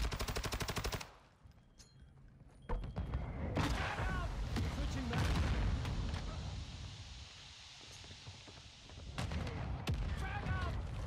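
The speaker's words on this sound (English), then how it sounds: "Hostile mortar strike near your position." Mortar strike explosions and rapid gunfire in a first-person shooter video game, with machine-gun bursts, heavy booms and a rumbling stretch of battle noise, game voice radio chatter heard underneath.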